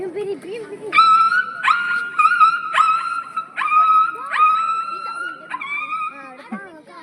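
A dog whines and yelps in pain after being beaten with a stick, a run of high, drawn-out cries repeating about every second, loud and close.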